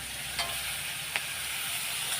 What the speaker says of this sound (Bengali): এই মাছগুলোও ভাজবো এখন